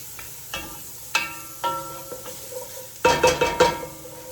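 Curry paste toasting and being stirred in a pan for a vegan Thai coconut red curry, with a series of sharp metallic scrapes and clinks of a utensil against the pan over a light sizzle, growing busier toward the end.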